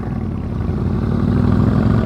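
A motorcycle engine runs at a steady, even speed during a riding skills practice session, with a low, continuous rumble close by and no talking.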